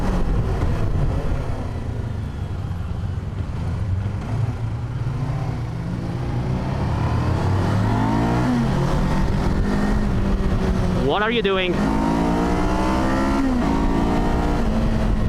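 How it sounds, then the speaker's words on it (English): A lightweight adventure motorcycle powered by a Ninja 500 engine runs with a steady engine drone that climbs in pitch as it revs, with a sharp rising burst near the end; a voice speaks briefly. "It doesn't really like to rev. It's begging me to take the exhaust off."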